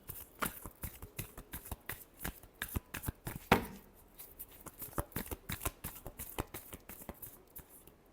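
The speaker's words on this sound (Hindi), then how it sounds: "Last shuffle." Tarot cards are shuffled by hand up close, producing a quick series of crisp riffling and slapping bursts in an uneven rhythm, fairly quiet with no one speaking.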